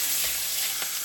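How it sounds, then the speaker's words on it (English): Continuous close sizzling rises from the edge of a ribeye steak pressed into a hot pan, a brief unbroken hiss with no voices. "Now I like to take the edges and just sear them a little bit."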